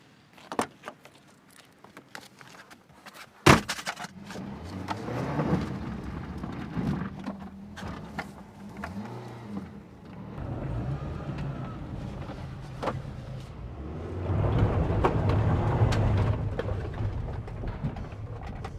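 A 2006 Ford Fiesta being driven, with engine hum, clunks and a loud bang early on, then a steady rolling rumble that swells louder toward the end.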